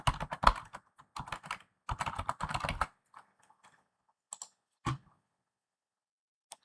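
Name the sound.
typing an email address on a computer keyboard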